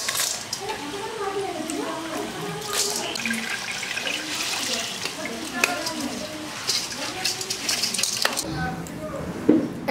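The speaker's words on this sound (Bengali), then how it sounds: "এবারে আমি চালটাকে ছেঁকে দিচ্ছি।" Soaked rice strained in a kitchen, a steady wash of running water with wet rustling and occasional clatters, close by, while a voice talks over it.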